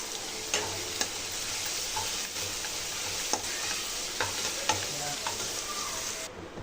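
Rice with turmeric being stirred in a hot pan for raw mango pulihora, a soft continuous sizzle with scattered spoon clicks against the pan.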